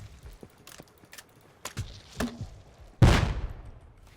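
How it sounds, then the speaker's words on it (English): Gunfire from a Thompson tommy gun in the survival game Rust, a few scattered distant shots and clicks followed by one loud close burst near the end. "Tommy's shooting from the farm area"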